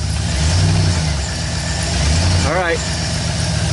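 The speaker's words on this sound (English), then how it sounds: "I'm going to get in, fire it up, and make sure that this engine don't turn like it does" Engine of a 2011 GMC Sierra pickup after motor mount and muffler repair, running loud and steady with a low throbbing idle rumble; a brief voice cuts in near the end.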